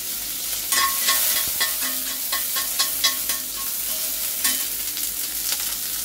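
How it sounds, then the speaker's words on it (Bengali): Onion frying in a small amount of oil in a pan for a jackfruit dish, a steady close sizzle with scattered stirring clicks and scrapes running alone throughout. "প্রথমে দিয়ে দিলাম পেঁয়াজটা"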